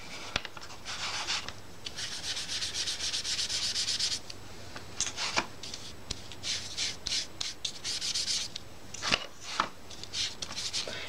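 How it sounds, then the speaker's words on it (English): Sponges dabbing and rubbing ink onto a card, giving repeated close scuffing and swishing strokes in bursts with brief pauses and a few sharp taps, heard alone. "we're just going to put that on with some sponges"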